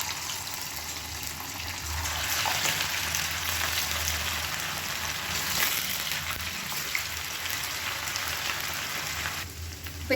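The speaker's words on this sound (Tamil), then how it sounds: "இப்போ ஒன்றா போட்டு நம்ம பொரிச்சு எடுத்துக்கலாம்." Marinated chicken deep-fries in hot oil, a dense, steady crackling sizzle like heavy rain that holds at an even level throughout, close and without talk.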